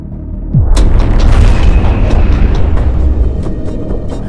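A loud, deep explosion from a vehicle bomb at the World Trade Center in New York booms suddenly, followed by a heavy, sustained rumble that slowly fades.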